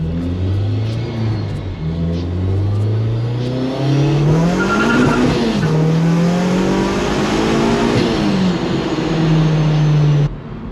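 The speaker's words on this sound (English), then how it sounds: "Second gear pull." A supercharged Honda Civic Si pulls hard through second gear, heard from the cabin: a loud, continuous engine note climbs steadily in pitch with brief dips, some tire noise underneath and no one talking.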